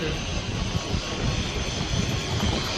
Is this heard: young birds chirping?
no